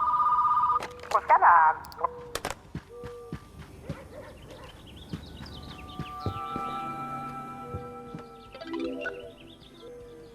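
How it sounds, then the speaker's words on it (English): A telephone rings in a store, its bell trilling loudly for about two seconds at the start before people talk over quieter background sounds. "And I'm gonna go answer the phone."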